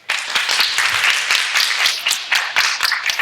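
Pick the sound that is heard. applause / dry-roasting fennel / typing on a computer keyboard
applause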